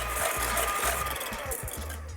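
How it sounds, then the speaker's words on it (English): A KitchenAid hand mixer whips egg whites with a steady, close motor whir and rattling beaters that run without a break, and no one speaks. "I'm going to use a KitchenAid hand mixer for this."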